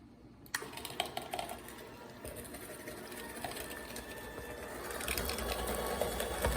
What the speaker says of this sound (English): now we're going to mix it a little bit more